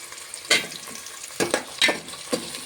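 Carrot and potato pieces fry in a pan, a soft background sizzle broken by several sharp stirring scrapes and clatters spaced irregularly.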